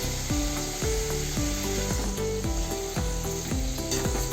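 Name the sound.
tomatoes frying in a pan with rock salt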